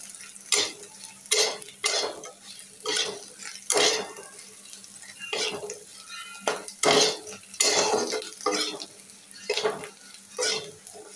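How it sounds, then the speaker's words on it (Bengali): Homemade dried fish (shutki) frying crisp in a pan, with a faint continuous sizzle beneath repeated sharp clinks and scrapes of a utensil stirring against the metal, coming in irregular bursts close up. "একটু মশমশা করে সুন্দর করে ভেজে নিই।"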